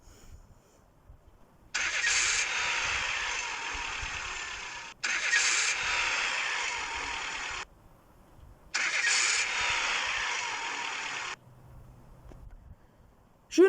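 A car engine runs in three separate bursts of several seconds each, with short silent gaps between them, sounding close and steady like it starts and idles, then cuts out.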